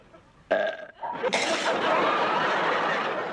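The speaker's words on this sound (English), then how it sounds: "teach me to belch" A person lets out a loud belch, then a second, longer burp follows, with snickering and chuckling laughter mixed in as the sound trails off.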